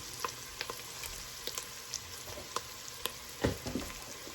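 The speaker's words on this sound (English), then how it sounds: "Now we're going to put in our cabbage" A whole head of cabbage goes into a hot pan with bacon drippings, giving a close, steady sizzle broken by soft scraping stirs and a louder clunk of the utensil.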